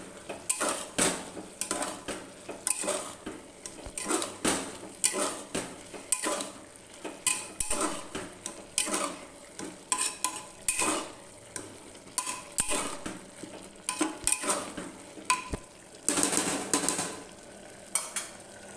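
A utensil stirs bottle gourd and shrimp curry in a pan, with salt and turmeric added: steady, close, rhythmic scraping and clinking against the pan that continues without a pause, over a light background sizzle.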